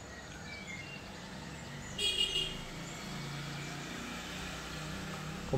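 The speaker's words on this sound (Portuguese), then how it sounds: "O pessoal sempre quando vai cruzar a esquina, dá uma buzinada" Car horn honking at a street corner, a short burst around the middle over steady traffic hum, with no voices.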